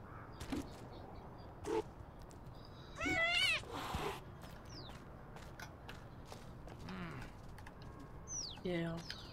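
A cartoon cat meows in the video game Little Kitty Big City, several short high cries scattered over about nine seconds among bird coos and soft pattering steps, with a faint background hum.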